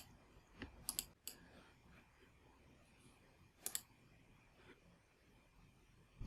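A few quiet computer mouse clicks, two close together early on and another a few seconds later, sharp and brief against a faint room background.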